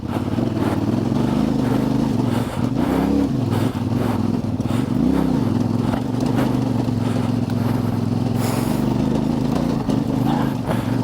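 CF Moto 450MT motorcycle on Kenda Big Block tyres riding a rough, rocky trail, its engine droning steadily and loudly throughout with brief throttle swells and rattling knocks from the rocks underneath.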